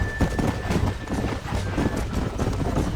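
Horses clip-clopping in the Red Dead Redemption video game, a steady hoof rhythm close by with soft background ambience and no voices.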